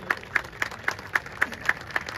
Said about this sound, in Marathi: जरा जोरदार टाळ्या या सर्व महिला बॉडी बिल्डरांसाठी